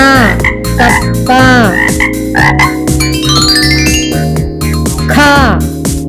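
Loud, repeated frog croaks come in rapid bursts over a continuous tonal, musical background, close and prominent throughout.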